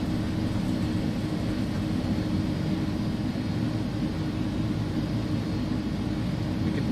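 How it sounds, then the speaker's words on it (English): APU of an iniSimulation A300 airliner in the X-Plane 11 flight simulator runs as a steady, loud, broadband whoosh and hum that holds unchanged throughout, with no talk. "APU master start switch is going on"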